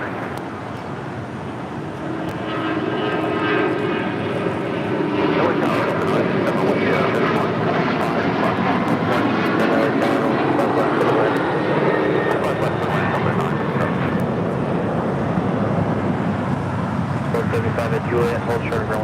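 An American Airlines Boeing 737-800 takes off from LAX for Indianapolis. Its jet roar swells after a quieter start and then stays loud and sustained, with shifting tonal sweeps, while faint radio voices sit beneath it.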